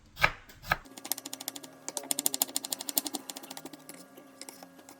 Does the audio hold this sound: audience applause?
no